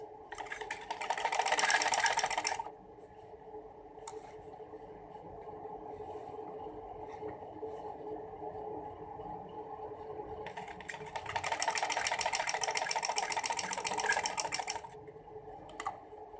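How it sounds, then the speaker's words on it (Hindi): A sewing machine runs a straight seam on a pathani frock in two bursts of rapid, even stitching chatter, each lasting about three to four seconds. A quiet hum runs between the bursts, and the sound is close and fairly soft. "बिल्कुल सीधी स्ट्रेट आपने सिलाई लगा लेनी है"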